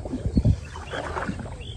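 Hollow wooden knocks and thumps up close from a wooden boat on field water, with soft water sloshing and light wind in the background.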